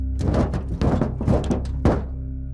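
Heavy thuds land on a roof as a sound effect, a series of deep, booming impacts in an uneven rhythm like weighty footsteps overhead, loud and close with no voices.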